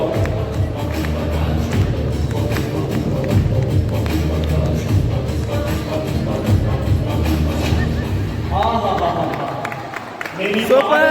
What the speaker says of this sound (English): Come on, everyone, claps on.